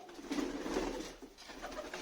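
A hand-reared pigeon coos softly nearby in a coop, a low throaty burbling call repeated over two seconds against quiet background noise.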